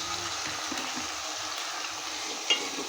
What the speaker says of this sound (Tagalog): So, susunod ko na yung ating chicken.